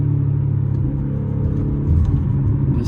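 Modified supercharged Audi S4 pulling hard in second gear, a loud close low-pitched engine drone and exhaust rumble that rises slightly toward the end, with no talking.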